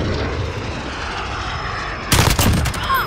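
A VTOL aircraft in Call of Duty Modern Warfare, a loud continuous engine roar that jumps to a harsher, brighter burst partway through, alone without talk.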